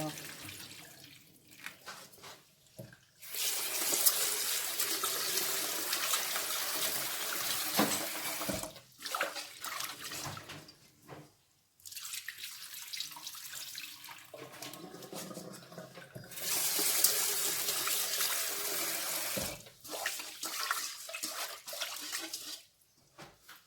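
Water pours from a tap into a rice cooker pot to steam sticky rice in a home kitchen, in two long, steady bursts of close running water separated by short pauses.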